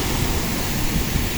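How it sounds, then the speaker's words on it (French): Ocean waves breaking on a shore in a rough spot with many waves, a steady close wash of surf and spray filling the whole moment without pause. "Mais là, il y a beaucoup de vagues là."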